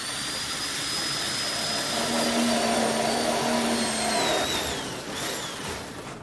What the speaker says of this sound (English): Try the drill now.